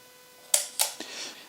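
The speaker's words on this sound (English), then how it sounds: "this is a mechanical shutter which we then can release, and for every shot we'll have to rearm the shutter" Mechanical camera shutter firing with a crisp, close metallic snap followed by a couple of quicker clicks, all within about half a second, no talking.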